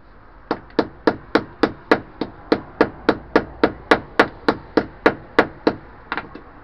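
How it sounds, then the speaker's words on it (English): A hammer cracks open peach nuts, striking about twenty sharp, evenly spaced blows in a steady rhythm, each a loud close knock with a short ring, alone without talk. "this is my hammer"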